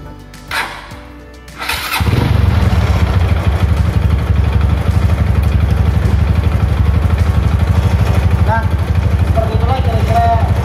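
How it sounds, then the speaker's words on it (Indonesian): A motorcycle engine starts after a few clicks and brief silence, then settles into a loud, steady, close running idle with a rapid rhythmic pulse that continues to the end. "Tinggal kita nyalakan, dia menyala, kemudian kita"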